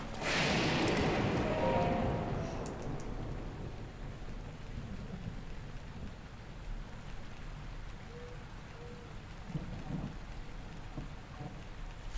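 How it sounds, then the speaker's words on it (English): Rain and thunder in Zelda Breath of the Wild: a loud thunder rumble opens and fades over a few seconds into steady, fairly faint rainfall, with a few soft incidental sounds and no talking. "Rain and thunder."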